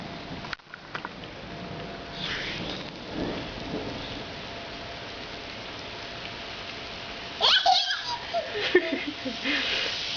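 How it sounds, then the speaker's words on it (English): Steady rain falls outdoors as a constant soft hiss, with a few louder bursts and a child's brief vocal sounds near the end. "You like the rain?"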